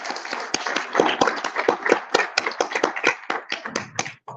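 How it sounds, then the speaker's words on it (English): Brief, fairly close clapping from a small group at a toy fair, sharp irregular claps in a quick rhythm that thin out toward the end, with no talking over it. "So I give that a round of applause."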